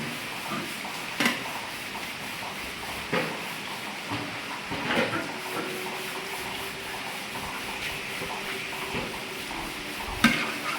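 Mutton chops masala fries in a pan as it is stirred, giving a steady low sizzle with occasional scraping and clinking of the spoon, and no talking.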